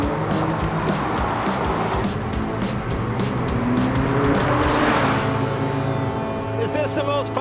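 A McLaren sports car drives on a race track to warm its tires, engine droning loud and close with repeated sharp bursts and tire squeal under a steady roar that shifts pitch as it accelerates.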